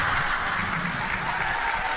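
Steady applause from a church congregation during a sermon, a dense, even wash of clapping that holds at a moderate level for its whole length.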